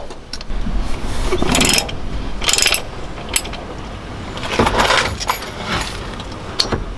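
Tool on a half-inch drive loosening a part on a Subaru, giving bursts of metallic rattling and clicking with brief jangling clanks against a low background hum.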